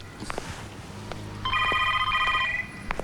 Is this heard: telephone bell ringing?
yes